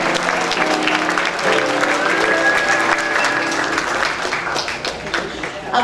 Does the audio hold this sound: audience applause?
yes